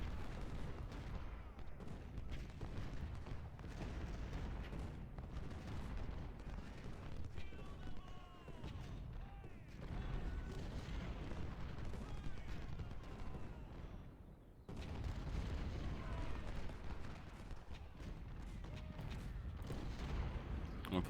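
Massed artillery and musket fire in Ultimate General: Civil War, a continuous rumbling wash of distant cannon booms and crackling volleys, steady and low throughout, with someone talking over it at times.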